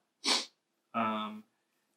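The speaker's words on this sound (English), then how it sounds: "I need to blow my nose before the next podcast we got going here." A person blows their nose: two short, close bursts, first a breathy puff, then a longer honking blast, in a quiet room.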